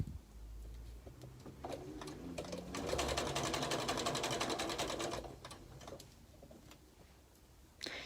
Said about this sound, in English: So I just sew right up to where the pin is, and then I take the pin out.